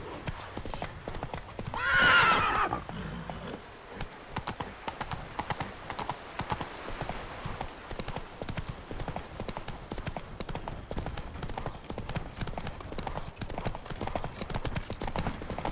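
Roach, the horse in Witcher 3, lets out a loud neigh early on, then gallops onward with a steady, driving clip-clop of hooves over game ambience.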